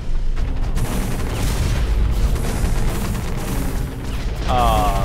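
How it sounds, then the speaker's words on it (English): Rocket launch and explosion in the mech shooter Hawken, siege mode: dense, loud booming blasts and rumbling gunfire fill the whole stretch, with a rising whine near the end. "Missed him with the rocket."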